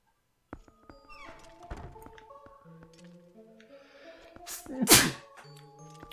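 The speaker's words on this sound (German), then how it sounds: "Ach, da musste ich mal niesen." A single sharp, loud sneeze bursts out over soft video game music and scattered game sound effects during a Zelda: Twilight Princess HD play session.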